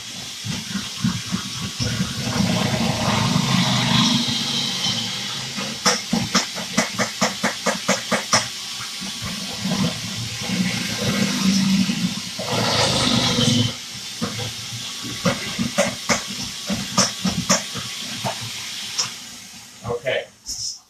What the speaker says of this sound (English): what's the food processor thing that's not slicing? Shredding.